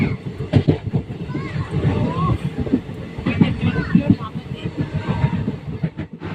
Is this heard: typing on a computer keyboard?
no